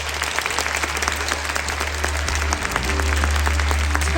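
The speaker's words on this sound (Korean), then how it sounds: "큰 박수 부탁드립니다." Dense, sustained applause from an audience at a children's choir concert and school graduation ceremony, steady hand clapping filling the hall throughout with a low background hum.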